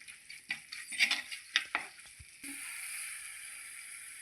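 Onions and green chilies fry in a pan with chili and fenugreek powders, starting with a run of scraping stirs and sizzling bursts before settling into a steady, even sizzle.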